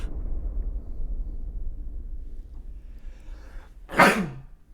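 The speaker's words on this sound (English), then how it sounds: "I'm so sorry to break that tension with the sneeze" After a few seconds of quiet background hum, a single sharp, loud sneeze bursts out close to the microphone.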